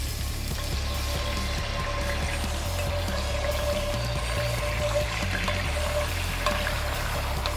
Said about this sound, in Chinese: 倒入点橄榄油，把刚刚烤西瓜的那个汁也给倒进去